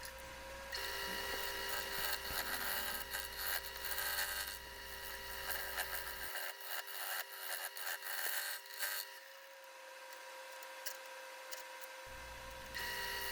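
A wood lathe turns a very hard, spalted and cracked elm bowl, humming steadily while the cutting tool scrapes and hisses against the grain, loud and continuous with no talk.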